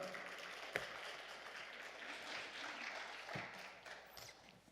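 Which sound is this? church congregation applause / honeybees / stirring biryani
church congregation applause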